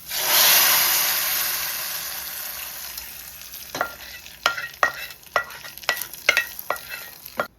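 Moong dal and a tempering of chillies, shallots, curry leaves and onions frying in a pan: a loud opening sizzle that gradually settles, then a run of sharp scraping stir strokes in an irregular rhythm, with no talking.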